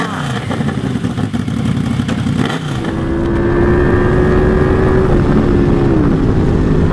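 A Yamaha V-Max motorcycle engine revs up and holds a loud, steady high-pitched drone close by at about 3,500 RPM, its tone sliding slightly as the revs settle.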